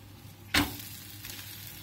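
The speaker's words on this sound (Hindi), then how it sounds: "तो अब इसको हम पलट देते हैं, दूसरी साइड भी इसी तरह पका लेते हैं।" An egg and moong sprout omelette sizzles in a pan as it is flipped, a sudden loud burst of frying followed by a steady softer crackle, with no talking.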